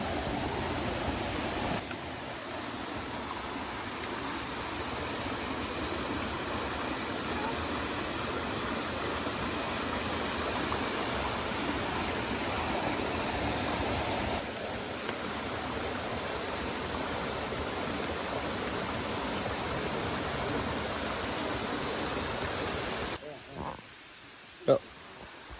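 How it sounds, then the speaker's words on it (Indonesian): A small waterfall beside the Cibodas hiking trail up Mount Gede roars as a steady broadband rush of falling water, continuous and close, fading out abruptly near the end where a few faint knocks follow. "juga ada air terjun."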